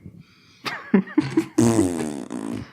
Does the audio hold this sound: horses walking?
no